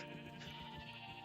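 Sheep bleating in the modded Minecraft pack TerraFirmaGreg, a steady game-audio bleat filling the whole short moment with no talk over it.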